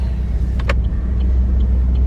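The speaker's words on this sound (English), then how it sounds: "Car coming on the right here." A passenger car goes by on the right during a commute drive, its road rumble and tire noise mixing into the steady low hum of the moving vehicle's own interior, fairly loud throughout with no talk.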